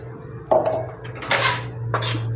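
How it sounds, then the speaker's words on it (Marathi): Ground peanuts tipped into melted jaggery in a pan, heard as a few short scraping and clattering hits of a utensil against the metal pan, with a steady low hum in the background. "आता हे शेंगदाणे मी ह्याच्यामध्ये घालते बारीक केलेले"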